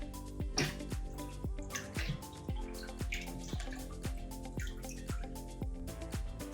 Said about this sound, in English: let's stop and stir it